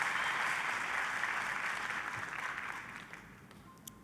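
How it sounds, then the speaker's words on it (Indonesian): Church congregation applauding during a sermon, broad sustained clapping that starts strong and gradually fades over about four seconds, with a few sharper claps near the end. "Kita kasih tepuk tangan yang meriah buat Tuhan kita."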